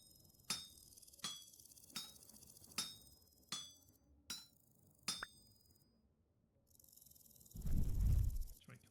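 Chiseling with a chisel in the video game Vintage Story: seven sharp, ringing tapping clicks spaced evenly about every 0.7 seconds, followed after a pause by a short burst of whooshing noise.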